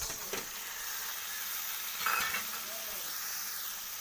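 Chicken pieces sizzling in a pan, a steady faint hiss of frying with a brief louder burst in the middle and a few soft utensil touches.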